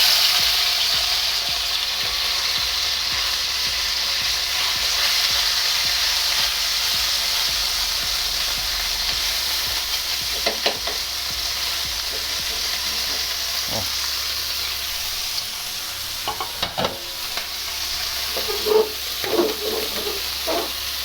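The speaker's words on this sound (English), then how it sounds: "Just let the beef sear." Beef sears in oiled hot pan with a loud, continuous hissing sizzle, with occasional small pops and scrapes toward the end.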